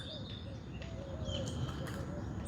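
Birds chirping in a park at sunrise, with several faint thin calls and tweets scattered over a steady outdoor background hum.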